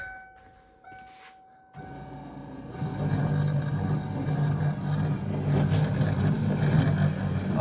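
A Foxbody Mustang windshield wiper motor starts with a faint click, then runs with a loud, steady whirring drone that builds slightly and continues without a break.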